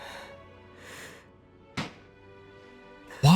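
Fireworks going off outside, heard indoors as a couple of sharp, loud bangs, one mid-clip and a louder one at the end, over a quiet background hum.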